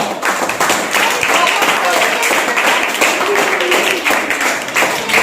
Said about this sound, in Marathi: जोरदार टाळ्या जोरदार टाळ्या